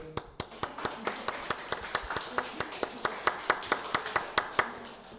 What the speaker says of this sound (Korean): 감사하신 분 박수 치세요.